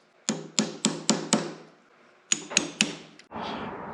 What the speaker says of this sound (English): I've got a punch with a little bitty chisel end ground into it for stuff like this